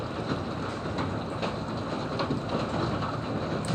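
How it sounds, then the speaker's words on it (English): Large hailstones pelting down during a tornado storm, a steady dense rattle of impacts close by with scattered sharper cracks, continuous and fairly faint, no voices. "Oh yeah, here comes the hail"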